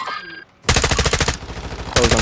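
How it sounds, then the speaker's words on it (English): Gunfire in a multiplayer shooter video game, loud rapid automatic bursts of close shots in two sustained volleys separated by a brief pause, following a short quiet lull. "He's shooting at me."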